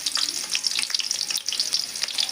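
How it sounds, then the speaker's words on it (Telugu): Onion pieces fry in hot oil, giving a bright, dense crackling sizzle that keeps up steadily throughout, close and fairly loud, with no one talking. "ఆయిల్ హీట్ అయింది కదా, నేను ఉల్లిగడ్డ ముక్కలు వేస్తున్నాను"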